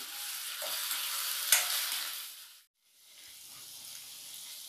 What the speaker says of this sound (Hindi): जिसे दरदरा कूटे हैं उसे भी डाल देते हैं और हरी मिर्च को भी डाल देते हैं और इसे चला लेते हैं